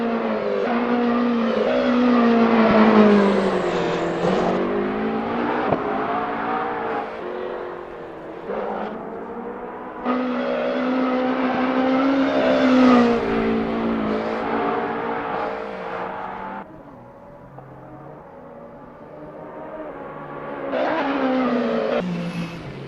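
Le Mans Daytona hybrid (LMDh) race cars lapping Road America in Assetto Corsa, engines droning loud and close, pitch rising and falling through gear changes and corners, with a brief dip before climbing again, no talking.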